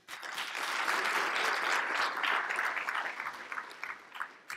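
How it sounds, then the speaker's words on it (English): Audience applause at a gala fills the room, a dense steady clapping that swells early and then slowly thins out toward the end, with no voices over it. "Give him a hand."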